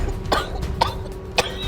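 A choking female character in the video game Seduce Me 2 coughs three sharp times at irregular intervals, close and fairly loud over a low background hum.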